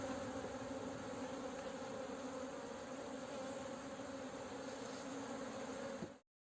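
A crowd of honeybees buzzes loudly and steadily around an aggressive hive during spring beekeeping, a dense, continuous drone close to the microphone that cuts off abruptly near the end.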